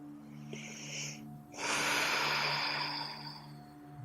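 Slow, audible breaths during a restful yin yoga session: a soft inhale, a pause, then a longer, fuller exhale through the nose, close and quiet over a steady low hum.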